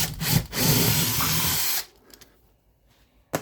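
A power drill bores holes into a wall for floating shelf brackets, with one loud burst of drilling after a couple of short starts, then near silence and a brief final whir.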